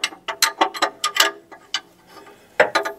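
A wrench tightens an O2 sensor on a 2011 Ford Fiesta, giving close, crisp ratchet clicks in irregular short runs with brief pauses between strokes.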